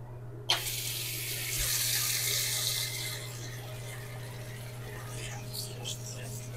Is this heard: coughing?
no